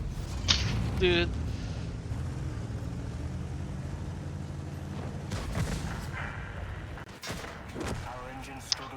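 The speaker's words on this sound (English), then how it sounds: "Yeah, it's the big HE shell." A big high-explosive shell blast in World of Tanks, a loud burst near the start followed by rumbling engine and battle noise, with later sharp impacts, all under players talking.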